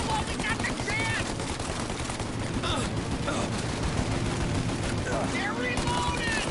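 Rapid machine-gun fire in the Mafia video game rattles continuously at close range, loud and relentless, with shouted voices and other battle noise layered over it.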